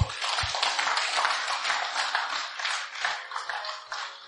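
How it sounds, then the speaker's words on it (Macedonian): A church congregation breaks into sustained applause for Jesus, dense clapping from many hands filling the room steadily throughout, loud and continuous with no gaps. "Ај аплауз за Исус"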